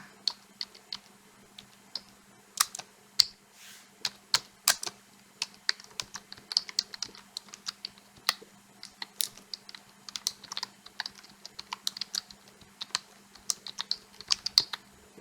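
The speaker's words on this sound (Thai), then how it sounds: "พิมพ์ชื่อบริษัทค่ะ พิมพ์ที่อยู่ค่ะ" Someone types a company name and address on a computer keyboard, with close, crisp keystrokes in quick irregular runs and brief pauses over a faint steady hum.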